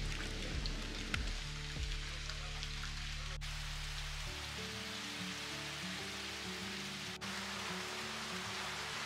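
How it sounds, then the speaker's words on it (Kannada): Heavy evening rain pours down steadily, a dense, continuous hiss of drops on surfaces that holds close and loud throughout, with a low background hum fading partway through. "ಸಂಜೆ ಆಗ್ತಿದ್ದ ಹಾಗೆ ಜೋರು ಮಳೆ ಶುರು ಆಯಿತು"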